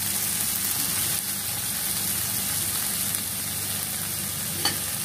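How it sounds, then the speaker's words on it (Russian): Vegetables for borscht frying in a pan, a steady dense sizzle and crackle running continuously throughout, close and moderately loud with no talking. "пускай еще пару минуточек все вместе здесь вот так вот пожарится"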